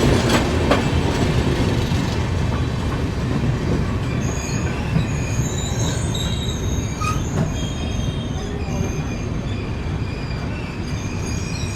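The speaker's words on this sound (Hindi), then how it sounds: "वो देखो नई दिल्ली कानपुर मेन लाइन पे एक ट्रेन भी क्रॉस हो रही है।" The Patna Udaipur Humsafar Express runs steadily past with a loud continuous rumble, its wheels squealing in high sustained tones through the middle and later stretch, with faint rhythmic clatter underneath.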